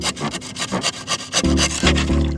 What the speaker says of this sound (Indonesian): sisa papan yang tidak terpakai kita gergaji seperti ini biar rapi